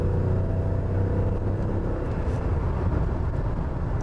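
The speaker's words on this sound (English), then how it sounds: "There, I shifted down 3 gears." Cabin sound of a 2000 BMW E38 750iL with its V12 engine during a three-gear downshift: a steady loud low rumble and road roar throughout, with no distinct rev blips standing out.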